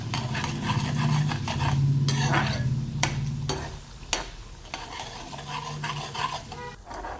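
Red lentils (dal) sautéing in oil over a low flame in a pan, with steady stirring and scraping, soft sizzling, and a few sharp clinks of a spoon against the pot.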